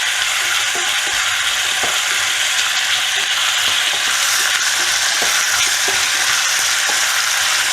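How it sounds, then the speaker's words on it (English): Beef filet and chicken pieces being stirred in a fondue pot of hot oil, a loud continuous frying hiss with scattered small clicks and knocks from the stirring throughout. "Just give us a stir, yeah."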